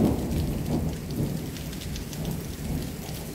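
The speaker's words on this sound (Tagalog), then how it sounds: "Maulan siya guys, maulan." Rain pours steadily outdoors on a wet day, a dense near hiss of drops striking surfaces with low rumbling undertones, continuous and free of talk.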